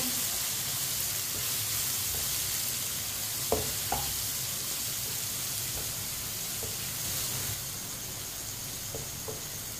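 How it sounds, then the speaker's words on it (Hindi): Red chili, turmeric and coriander powder cooking in a pan for tori egg curry: a continuous gentle sizzle with a few light spoon taps and stirs, quiet, no talking. "मसालों को भी 1 मिनट के लिए पका लेंगे"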